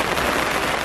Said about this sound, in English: The rain is still coming down